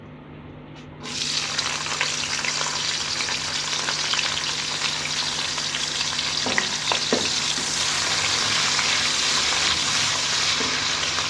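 Loud, steady sizzling of onions frying in hot ghee begins abruptly after a second and holds on continuously, with occasional stirring scrapes, no voices.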